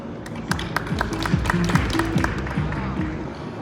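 An audience at a truck press conference applauds to welcome a speaker, a dense patter of clapping running steadily under a voice talking over it, with background music tones.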